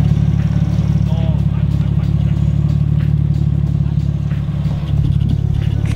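A Nissan Skyline drives along Welsh country roads, its engine a steady, loud, continuous drone with a low harmonic hum throughout, under talk.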